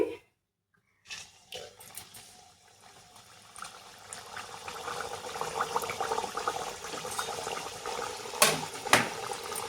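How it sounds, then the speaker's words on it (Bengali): Pea kachori frying one by one in hot oil in a kadai: a near-silent start, then a bubbling, crackling sizzle that builds steadily, with a few sharper pops near the end. "তেল গরম হয়ে গেছে বন্ধুরা, এবারে আমি এক এক করে একটু ভেজে নেব।"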